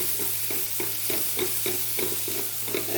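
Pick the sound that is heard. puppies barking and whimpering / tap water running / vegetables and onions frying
vegetables and onions frying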